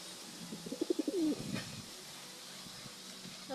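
Pigeons cooing close by in a short cluster of soft, rounded notes, a few pulses then a longer rolling coo, over a steady low background hum.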